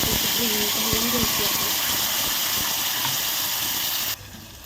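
Onion dropped into hot oil in a pan for a dhaba-style chicken masala, a steady loud hiss of frying that holds for about four seconds, then drops to a softer sizzle, with a voice talking over it.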